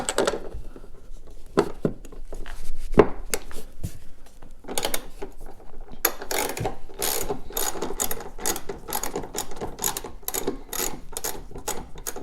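A ratchet wrench loosens the bolts on a golf cart seat bracket. A few scattered clicks give way to a fast, even run of close, crisp ratcheting clicks, with no talking.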